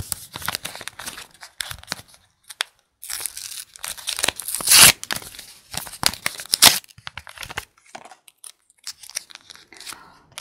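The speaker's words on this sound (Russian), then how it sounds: "когда мы откроем этот пакетик" Paper crinkles and rips in quick, irregular bursts as a packet is torn open, with a few louder tears midway and small rustles between.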